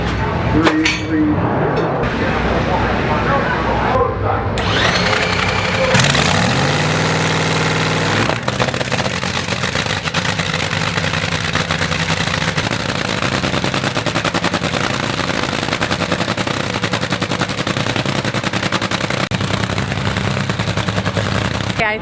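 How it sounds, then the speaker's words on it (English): An NHRA dragster engine fires up at a four-wide drag strip event and runs with a loud, harsh, rapid-fire crackling roar that stays constant and dominates throughout. "not witness when they turn on that engine. So this time it was a dragster."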